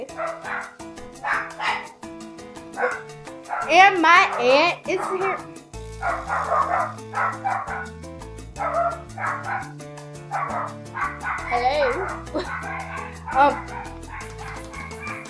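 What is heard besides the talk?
dog barking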